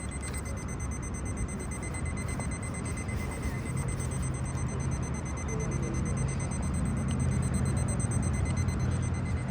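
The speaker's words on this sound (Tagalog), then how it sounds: "Mutunog na yung alarm." An alarm rings steadily at a flea market, a continuous high electronic tone held over a dense, even wash of crowd and ambient noise for the whole stretch.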